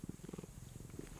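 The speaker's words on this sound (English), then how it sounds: "Why does my cat keep headbutting me?" A pet cat purrs steadily and close while headbutting, a low rhythmic rumble in short pulsing bursts with no talking over it.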